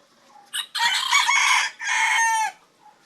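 An eight-month-old Talisayin bantam rooster crows once nearby, loud and clear, a short opening note followed by two long, strained, drawn-out phrases, then quiet.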